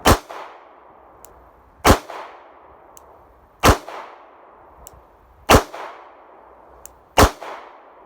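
Five sharp, loud revolver shots from a Charter Arms Undercover fired double-action at a shooting range, spaced roughly two seconds apart, each with a short ringing decay and no talking.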